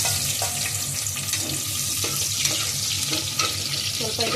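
Onions frying in a pan with raw masala spices, a steady close sizzle and hiss with faint stirring clatter throughout.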